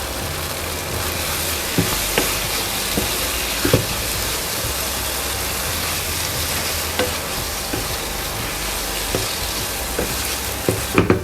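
Fish biryani masala frying with broken curry leaves in a pan, a dense, steady sizzle with occasional sharp spoon taps and a low hum underneath.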